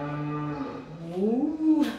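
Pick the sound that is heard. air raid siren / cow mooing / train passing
cow mooing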